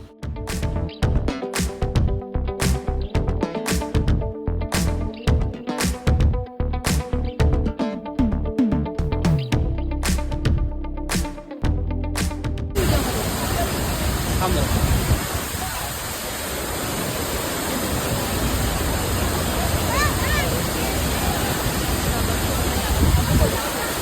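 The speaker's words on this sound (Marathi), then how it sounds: "हा धबधबा एवढा सुंदर वाटत होता, एवढा सुंदर, एवढं पाणी वगैरे अंगावरती येत होतं" Thoseghar waterfall crashing down, a dense steady roar of falling water close by, heard in the second half after a stretch of rhythmic music.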